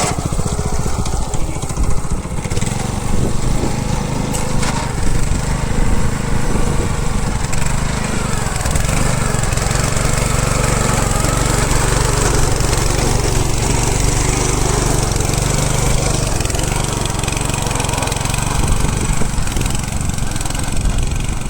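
Small front rotary power weeder running steadily through a crop field, a continuous loud buzzing engine drone with churning blades, close and sustained throughout with faint voices underneath.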